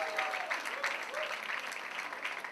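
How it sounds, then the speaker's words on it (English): Applause from the audience at a book launch for the Shiva Trilogy, a steady, fairly distant patter of many hands that carries on for the whole stretch, with faint voices underneath. "Please put your hands together for him, everyone."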